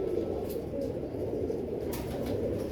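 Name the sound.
Royal Teddy pigeons cooing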